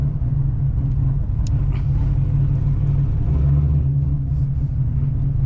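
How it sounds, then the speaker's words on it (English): A cammed Dodge Challenger Scat Pack V8 engine idles loud and close with a lumpy, uneven chop in its low rumble, running steadily throughout. "It's something about the cam, the chopping"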